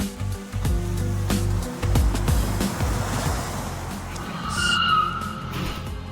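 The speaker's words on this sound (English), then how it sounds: "That's someone laying drag" Car tires screech and skid with a roaring engine, a loud sustained squeal rising near the end.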